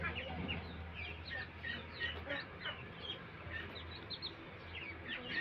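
Pigeons are fed grain outdoors, giving soft, scattered chirps and clucking calls at low volume over a quiet background hum.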